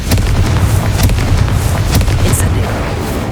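Confringo explosion spell in Hogwarts Legacy, a rapid string of sharp cracks and booms over a continuous loud low rumble, several blasts landing close together like fireworks.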